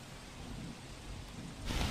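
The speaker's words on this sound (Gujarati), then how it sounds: "અમદાવાદના વિવિધ વિસ્તારમાં અત્યારે વરસાદ થઈ રહ્યો છે" Steady hiss of monsoon rain falling continuously across Ahmedabad streets, growing a bit heavier near the end, with no voices.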